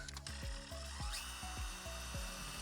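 A power drill works through an RV roof with a steady series of rhythmic clacking impacts while installing a vent cover, close by, with no voices.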